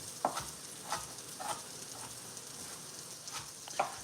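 Vegetable ends sauté quietly in a pan, a soft, low hiss punctuated by a few light taps and scrapes of a utensil at irregular intervals, with no talking.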